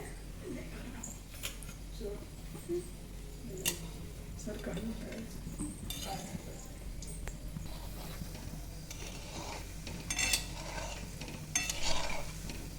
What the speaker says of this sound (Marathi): तर बारीक वरतीच गुलाबजाम आपल्याला तळून घ्यायचे